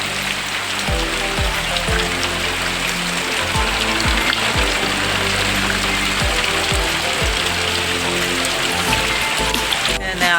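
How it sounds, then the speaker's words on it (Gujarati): Steady heavy monsoon rain pours down on a farm, dense and continuous, with drops drumming on a hard surface close by and a low rumble underneath. "આવ્યો મેં વરસાદ"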